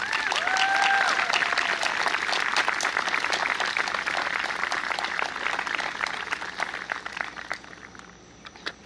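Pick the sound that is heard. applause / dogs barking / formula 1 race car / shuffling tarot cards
applause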